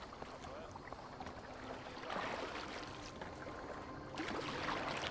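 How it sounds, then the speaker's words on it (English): Boat ride in Assassin's Creed Valhalla: steady water wash and creaking hull movement, with splashing swells rising around two and four seconds, no talk. "A walk turns into a boat ride."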